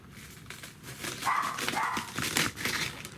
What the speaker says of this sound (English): sorry about my dog barking there